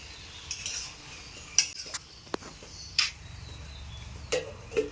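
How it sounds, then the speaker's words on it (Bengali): Broken rice cooking in a pot with garlic cloves, stirred with a metal spoon and then covered with a lid: sparse clinks and scrapes of metal on the pot with a few sharper knocks, quiet and close, no talk. "আমি ভাতটা একটু নাড়াচাড়া করে আবার ঢেকে দেবো"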